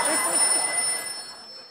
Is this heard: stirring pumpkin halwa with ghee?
no